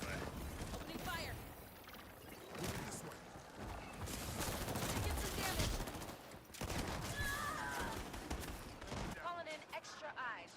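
Gunfire in the video game Highguard: rapid bursts of shots and sustained firing fill the scene, loud and dense, mixed with other game effects and voices talking over it.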